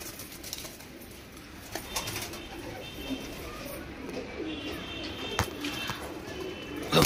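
Madrasi pigeons in a Kolkata loft coo softly amid a low, noisy background, with faint scattered calls and occasional rustles.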